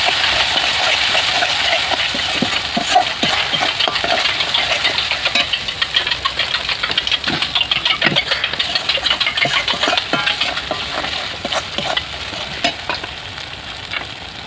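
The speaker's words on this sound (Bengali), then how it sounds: "নাড়াচাড়া করে নেব" Spices and tomato cooked down in oil with ground ginger paste added for a chicken curry, stirred steadily in the pan with a constant loud sizzle and the repeated scrape and tap of the spoon.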